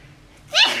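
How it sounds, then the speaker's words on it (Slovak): A single short human sneeze bursting out after a quiet pause, close and moderately loud. "Kýchnem."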